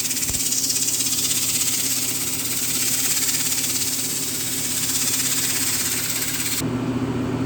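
A tractor shaft from a John Deere D is polished with 100 grit sandpaper, a steady, loud abrasive hiss that runs continuously and evenly, close up, before cutting off abruptly near the end.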